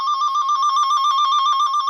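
Warbling two-tone cable toner probe signal held close to the traced cable, a steady loud electronic chirp alternating rapidly in pitch, continuous and alone.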